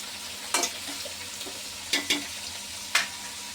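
Radish pieces frying in oil with fenugreek seeds for sambar, a steady close sizzle broken by four sharp spoon-and-pan scrapes as the pieces are stirred, with no voices.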